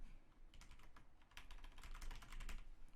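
Fast typing on a computer keyboard during a live stream, a close, busy run of key clicks in uneven bursts, with no talk over it.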